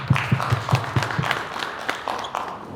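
Audience clapping at a newcomer town hall meeting for African refugees, a sparse, uneven patter of hands with a few sharp near claps early on that thin out toward the end.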